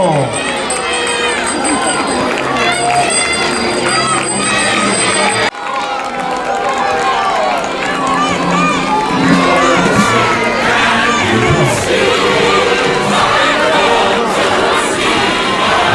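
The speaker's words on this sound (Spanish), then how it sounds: "¡Fuerte aplauso!" A large crowd at an Olympic Games opening ceremony roars and cheers continuously, a dense, loud wash of many voices with shouts and possible clapping mixed in, briefly dipping near the middle before swelling again.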